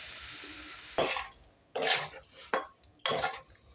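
A spoon scrapes and stirs roasted moong dal and soaked daliya in a pot, four distinct bursts of scraping and light sizzling separated by short pauses, close and fairly soft.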